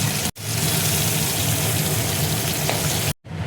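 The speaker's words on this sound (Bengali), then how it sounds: "চিংড়ি মাছটা দেখো ভাজা হয়ে গেছে, খুব বেশি ভাজবো না" Shrimp frying in hot oil in a home kitchen, a loud steady crackling sizzle close up, briefly cut off twice and otherwise unbroken, with no talk over it.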